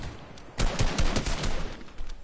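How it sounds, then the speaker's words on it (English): Video game gunfire erupts after a quiet start, with rapid bursts of shots crackling close and loud for over a second before trailing off. "Stop shooting me, I didn't kill you."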